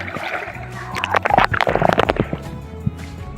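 A person dives into river water, and a burst of close splashing and sloshing follows a quieter start before the water settles again.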